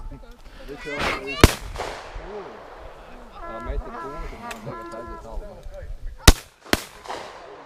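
Shotgun blasts at thrown flying targets outdoors, three sharp loud reports spaced apart, with people talking and shouting between the shots.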